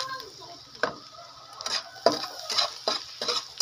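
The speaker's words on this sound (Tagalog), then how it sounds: "Okay, lalagyan natin ng bawang. Dagdagan natin yung bawang." Chopped garlic sizzles in a pan for paella, a soft steady frying hiss broken by several scraping stirs of a utensil against the pan, close by.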